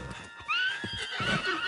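A horse in a video game whinnies in a clear, close neigh, with a few soft hoof thuds underneath, all over in under two seconds.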